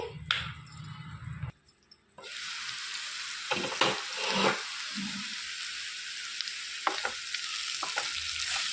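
Capsicum and peanuts fry in a pan with a loud, close sizzle, broken by stirring scrapes and brief pauses, and no voices over it.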